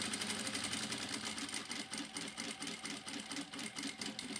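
A sewing machine stitches steadily along a folded fabric seam, a continuous rapid mechanical hum with a regular pulsing rhythm, fairly quiet and close, with no talking.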